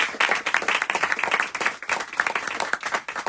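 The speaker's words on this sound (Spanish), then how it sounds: "aplauso, no, por favor" An audience at a talk applauds, a dense, lively burst of many hands clapping continuously at close range.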